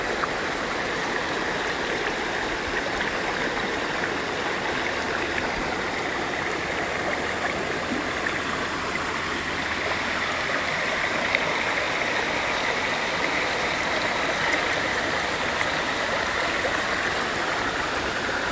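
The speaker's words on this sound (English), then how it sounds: "The reason this brook is flowing so nicely is because we did get a couple of days of rain." A brook runs high after a couple of days of rain, giving a steady, loud rushing and gurgling of water that holds constant throughout with no voices.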